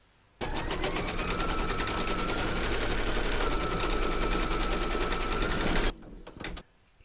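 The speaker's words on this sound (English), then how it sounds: "Pop your hoop into your machine and stitch round number four to secure it." Embroidery machine stitching fabric tape-held in a hoop, a loud continuous rapid needle chatter for about five seconds that starts and stops abruptly, followed by a short fainter mechanical whir.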